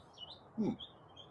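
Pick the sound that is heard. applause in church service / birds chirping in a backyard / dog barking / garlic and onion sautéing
birds chirping in a backyard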